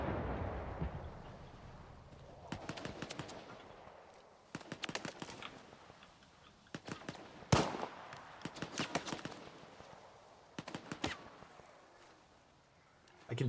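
Video game gunfight with a grenade blast among bursts of rapid gunfire and booms, sharp cracks clustered in volleys with quieter gaps between, heard fairly faint overall.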